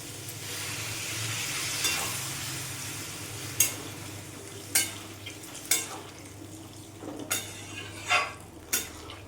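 Water poured into a pan of frying soybean curry brings on a steady hiss and sizzle, with repeated sharp clinks of a spoon stirring against the pan, close and moderately loud.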